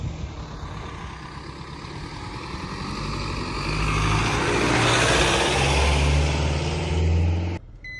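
Steady engine and road rumble from a vehicle climbing through the forested mountain hills near Nine Mile, Jamaica, swelling louder midway and then dropping off abruptly near the end; no voices.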